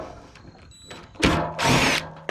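A power tool drives a fender bolt on a 2011 Nissan Rogue, starting after a quiet pause with two loud whirring bursts and a short sharp click at the end.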